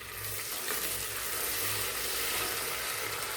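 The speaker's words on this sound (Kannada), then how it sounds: "ಈರುಳ್ಳಿ ಹಾಗೂ ಹಸಿಮೆಣಸಿನ್ಕಾಯಿ ಎಣ್ಣೆಯಲ್ಲಿ ಚೆನ್ನಾಗಿ ಫ್ರೈ ಆಗೋವರೆಗೆ ಹುರ್ಕೋತಾ ಬನ್ನಿ." Onion, green chilli and mint leaves frying in oil, a soft, even hiss of sizzling with faint stirring, fairly quiet and unbroken.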